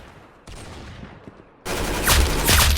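Video game gunfire: a quieter stretch of shots gives way to a loud, dense burst of rapid automatic fire that fills the final second, with sharp repeated cracks up close.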